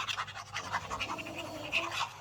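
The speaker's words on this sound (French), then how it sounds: "C'est de nouveau mes chiens qui ronflent, ne vous inquiétez pas, c'est normal." Small sleeping dogs snore and breathe heavily indoors, a soft, irregular run of raspy breaths close to the listener, quiet and alone.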